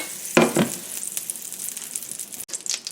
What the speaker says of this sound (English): I'm going to add a couple tablespoons of butter and get that melted